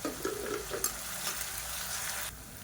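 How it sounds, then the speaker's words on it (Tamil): Chopped onion with salt sautéing in a pan, a soft hissing sizzle with a few stirring scrapes early on, fairly quiet and steady before cutting lower near the end. "வெங்காயம் வதங்குறதுக்கு உப்பு சேர்த்துக்கலாம்"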